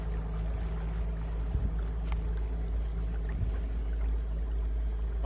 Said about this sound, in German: Da kommt uns ein Boot entgegen.